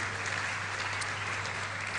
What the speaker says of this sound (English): You can clap. That's fine.